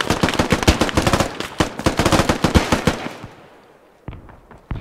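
Rapid automatic gunfire aimed at a vehicle's tires in a video game, a dense close burst of shots for about three seconds that fades out, followed by a couple of isolated single shots.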